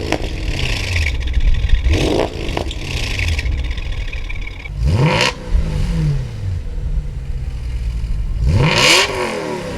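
A V8 engine fitted with a Milltek Sport exhaust revs repeatedly in loud, rising bursts, with sharp throttle blips separated by brief settling moments and no voices.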